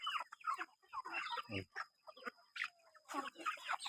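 Fighting-breed hens clucking in short bursts, with scattered bird calls and a steady high whine in the background.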